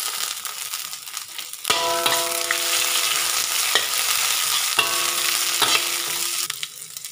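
Mustard seeds, urad dal, dried chilli and onion sauté in hot oil in a pan for poori kurma, giving a steady close sizzle and crackle with a few clinks and scrapes of a stirring spoon.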